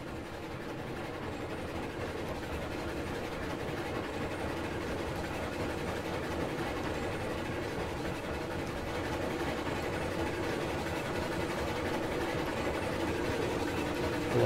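A train runs in the railroad game Railroads Online, hauling a heavy load toward a coal mine. It gives a continuous, steady rumble with clacking wheels and engine drone at a constant, fairly loud level throughout, with no talking.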